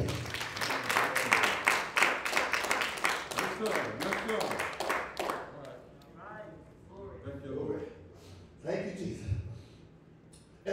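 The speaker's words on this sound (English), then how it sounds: "Somebody give the Lord a hand clap of praise." A church congregation claps in praise, a quick run of sharp, rhythmic hand claps that fades after a few seconds into a preacher's raised voice and scattered responses.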